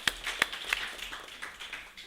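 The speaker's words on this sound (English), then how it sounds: "Another round for applause." A few people clap at a convention opening session, with sharp, sparse claps spaced unevenly and fading into scattered light taps, thin and close rather than a full crowd.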